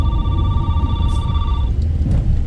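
A telephone rings with a steady electronic tone for over a second, then stops, over a constant low rumbling background.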